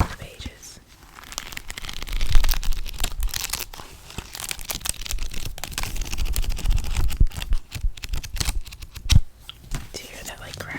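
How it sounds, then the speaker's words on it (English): Stiff, stuck-together pages of a new fantasy or thriller novel being pried apart close up, with crinkling, tearing paper crackles in uneven bursts and a soft whisper running underneath. "Let's do some ASMR opening the pages."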